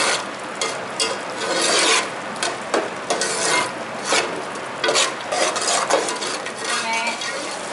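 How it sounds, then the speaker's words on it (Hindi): Minced mutton being mixed by hand with red chili powder and spices for seekh kebabs, giving a steady wet squelching and rasping scrape against a bowl, close and continuous with rhythmic pulses and no talk. "अब इसको मिक्स कर लेंगे अच्छी तरह।"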